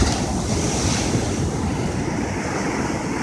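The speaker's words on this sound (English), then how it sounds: "Look at that huge wave coming." Ocean waves surge and crash onto a beach in a steady, loud broadband roar, with wind buffeting the microphone throughout and no voices.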